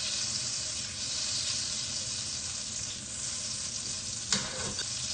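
About 20 grams of fat and oil melt in a pan while a festive game dish in red wine sauce is prepared, giving a loud, continuous, close sizzle with a brief clink near the end.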